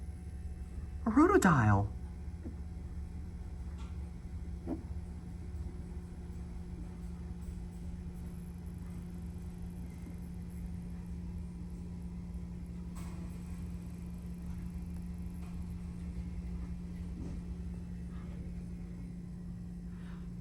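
A vintage Westinghouse traction elevator motor at the Lee Building gives off a low, steady hum that runs the whole time. A brief voice speaks near the start over a quiet room background.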